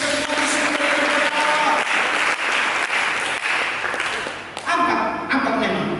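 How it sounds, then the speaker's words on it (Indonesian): Church congregation clapping during a sermon, a loud, continuous wash of applause with a voice speaking or singing over it, briefly dipping near the end before swelling again. "Mari kita berikan tepuk tangan ini semua"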